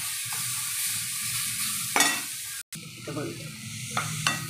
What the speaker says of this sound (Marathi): आता टाकू आपण टमॅटो.